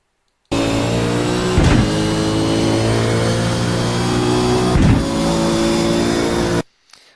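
A race car in a racing video game runs at the Motegi circuit in sixth gear, its engine holding a steady loud drone with two brief bursts of noise midway and no talk.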